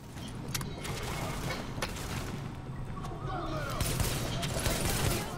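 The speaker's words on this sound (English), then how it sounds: "Alright, I got people down here shooting at me." Enemy gunfire in The Division crackles in rapid, repeated bursts over a steady din of game background noise, moderately loud and continuous.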